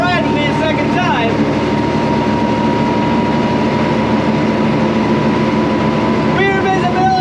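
An old military 5-ton truck drives along, its engine giving a loud, steady low rumble and drone throughout, with someone talking over the noise at times.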